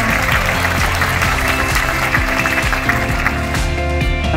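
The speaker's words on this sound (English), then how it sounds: "Please round of applause for all of you." Applause from an incoming NUS MBA class at a welcome event, heard beneath loud music with a steady beat that dominates the short stretch.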